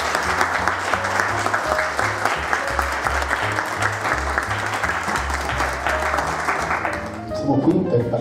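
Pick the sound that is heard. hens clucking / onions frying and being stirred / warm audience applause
warm audience applause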